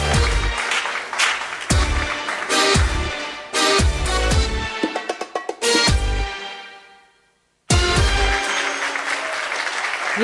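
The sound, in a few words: audience applause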